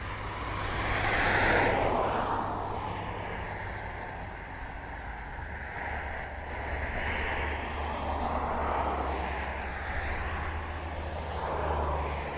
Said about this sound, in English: it's got to be the jumbo jet, hasn't it, at East Midlands Airport?